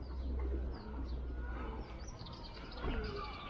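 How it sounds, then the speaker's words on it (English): Pigeons coo outdoors at a historic battery site in Gibraltar, soft repeated throaty calls and a few chirps over low wind and street rumble. "Pigeons."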